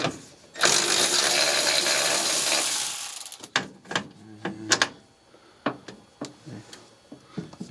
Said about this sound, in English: So we're using number 10 millimeter socket.